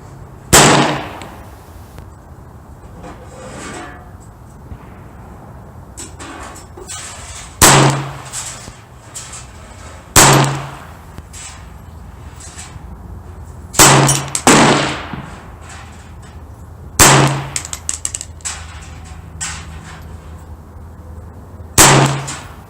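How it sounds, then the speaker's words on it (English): A Ruger Mark III .22 pistol fires at targets 50 yards away on an outdoor range, with loud sharp cracks spaced several seconds apart and quieter bangs between them. "I'm going for the second 5-shot group at 50 yards, and I'll be shooting right lower target"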